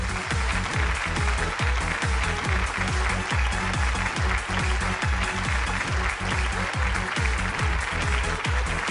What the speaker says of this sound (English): Let's have a huge round of applause for our national carrier,